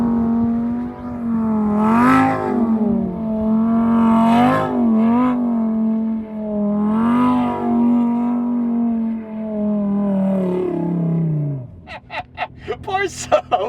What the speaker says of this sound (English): Should I do a tight donut too real quick?